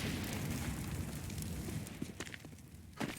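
A grenade blast on Counter-Strike's Inferno map leaves a loud, rumbling roar that slowly fades, with a few sharp pops and clicks from the match scattered near the end.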